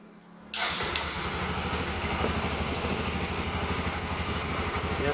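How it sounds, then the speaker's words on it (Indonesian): A Yamaha Xeon motorcycle, with its stator wiring cut, starts with a sudden catch and settles into a close, steady, pulsing idle that runs evenly to the end. "Langsung saja kita bunyikan mesinnya teman-teman"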